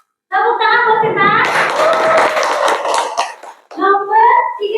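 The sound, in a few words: classroom applause for Sinta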